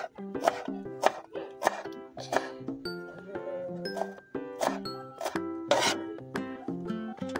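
A knife cuts pigeon pea pods for pakoda in a village kitchen, producing rhythmic, close chopping and rasping strokes mixed with faint tinkling, heard without talk.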